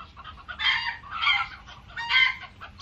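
Chickens cluck in loud, close bursts, with a rooster-like crow among about three busy squawking phrases.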